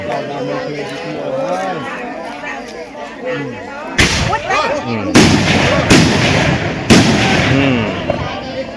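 Firecrackers set off at a Thai lottery-luck ritual by a giant tamarind tree: after a stretch of chatter, four loud, sharp bangs burst out close by in quick succession, with voices continuing between them.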